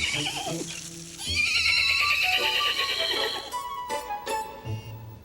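A horse gives a loud whinny in a 1991 animated children's story, with hoof clip-clops and music around it in a short, busy scene.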